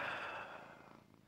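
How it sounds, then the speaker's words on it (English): Simba, a pet cat, purrs steadily and close by in a brief, soft, continuous rumble that fades slightly toward the end. "He's got mighty purrs, huh, Simba?"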